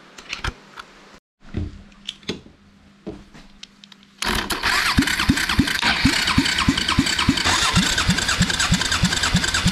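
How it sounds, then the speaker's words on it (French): A side-valve (SV) motorcycle engine is cranked over repeatedly for a compression test with the spark plugs removed, giving a steady rapid chugging that runs loud and close after a few quieter scattered clanks. "On va démonter les bougies et tester les compressions."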